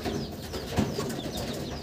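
Ablook bloodline pigeons coo softly in a loft, low murmuring calls over a constant background hum, with one slightly louder coo midway.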